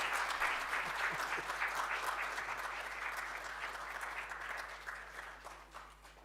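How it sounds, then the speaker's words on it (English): An audience at the official launch of a youth coding initiative claps warmly as the high table departs, a soft, distant patter that slowly fades over a low steady hum. "I think we can give them also a round of applause as they go."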